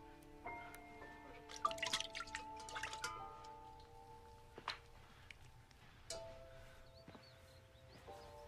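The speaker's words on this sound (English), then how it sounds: "This is water." Water drips and splashes in sparse, uneven drops, a faint, close sound with ringing tones in a quiet space.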